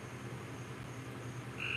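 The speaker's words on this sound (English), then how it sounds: "For God's sakes, you freaking disgusting frogs, chill out." Frogs croaking in a continuous chorus, low pulsing croaks with a brighter trill rising near the end, moderately distant and faint with no talk.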